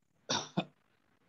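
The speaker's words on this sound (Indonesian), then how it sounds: "Boleh semuanya tahan napas, terus berdehem dengan kencang." Swimmers at a pool first-aid lesson forcefully clearing their throats, two short loud rasping bursts close together, followed by another starting just as the sound ends.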